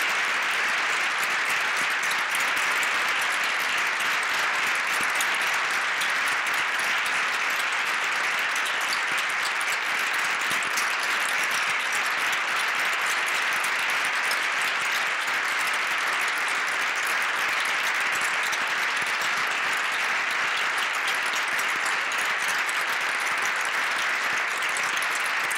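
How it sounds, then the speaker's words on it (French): An audience applauds volunteers at a tribute event, producing sustained, dense, even clapping that continues strongly for the whole stretch without breaks or speech. "J'aimerais qu'on puisse les applaudir une autre fois."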